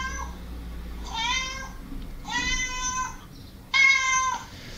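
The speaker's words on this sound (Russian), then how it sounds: "Так, звук кошки у нас также есть." A cat meowing sound effect plays from the phone on a homemade camera robot, three drawn-out meows in a row, moderately quiet and close, with no talking.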